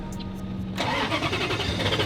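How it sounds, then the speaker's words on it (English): A Koenigsegg supercar's engine cranks and fires, catching abruptly into a loud, rumbling idle with a burbling pulse, heard from close by. "let's fire it up and let's see what this sounds like"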